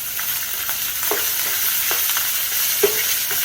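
Fried rice in canola oil sizzles steadily in a hot pan while a utensil stirs and scrapes through it, giving a bright continuous hiss broken by a few scraping knocks.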